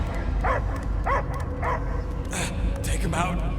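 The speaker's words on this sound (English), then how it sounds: "I hear only barking." A dog in Marvel's Guardians of the Galaxy video game gives several short barks and yips at a steady pace over a low rumbling game background, with voices talking between the barks.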